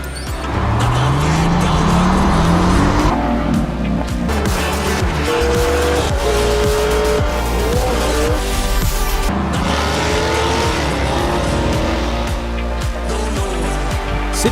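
Racing cars in a video game speeding through dense highway traffic, with loud continuous engine roar, rising gear-shift whines and tire squeals layered throughout.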